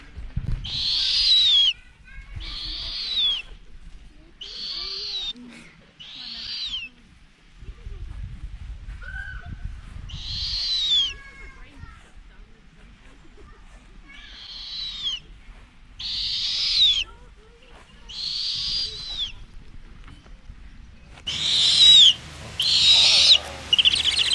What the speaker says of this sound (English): we're a few weeks into imprinting the snowy owl